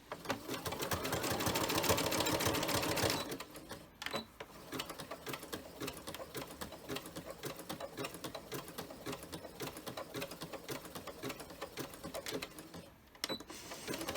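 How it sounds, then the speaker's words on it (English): A sewing machine stitches a fat-quarter fabric face mask side to side, running in a loud steady whir for about three seconds, then continuing in shorter, lighter bursts of stitching. "we're going to sew it on side to side instead of at an angle like the tops"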